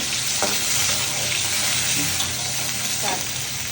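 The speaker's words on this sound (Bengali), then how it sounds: "আমি এখানে লবণ আর ফুড কালার দিয়ে আলুটা একটু মেখে নিয়েছি। এখন এগুলো একটু ভাজা ভাজা করে নিব।" Potato pieces coated in salt and food colouring frying in hot oil for tehari, a continuous dense sizzle up close with a few soft stirring clicks.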